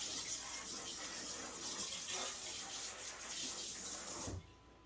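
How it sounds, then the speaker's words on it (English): Water gushes steadily with good pressure from a portable shampoo station without plumbing, a constant close hiss that cuts off abruptly near the end. "And I can control the flow of the water."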